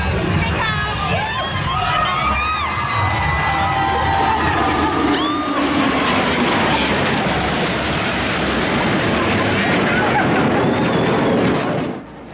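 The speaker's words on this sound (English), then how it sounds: "Those are the United States Blue Angels, a naval aerial stunt team." United States Navy Blue Angels stunt jets fly overhead with a loud, sustained broadband roar that fills the whole stretch, while a crowd cheers, whoops and shouts over it before the noise cuts off at the end.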